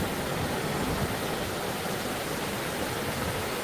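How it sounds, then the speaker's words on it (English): Steady broadband roar of wind gusting during a thunderstorm, loud and unbroken, with no voices. "here comes some wind"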